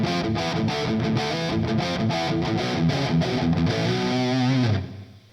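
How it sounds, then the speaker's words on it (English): An electric guitar played through the Lekato PA-1 pocket amp's Mr. Smith Distortion setting, modeled on a PRS Archon, rings out as saturated, sustained chords for about five seconds before a final chord fades out. "Next up, we have the Mr. Smith Distortion. It's supposed to be a PRS Archon."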